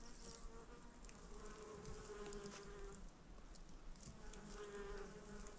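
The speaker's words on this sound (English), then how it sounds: "The bees are loving it." Bees buzz steadily around self-seeded borage in a root vegetable bed, a faint continuous hum with passing insects drifting closer and farther in an outdoor garden.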